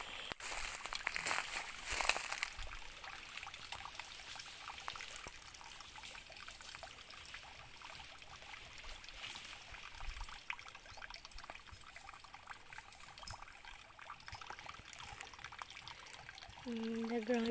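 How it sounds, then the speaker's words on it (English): Running water trickles outdoors near a simple fence being put up, a faint, continuous dribble under people talking nearby. "Let's go to the running water here."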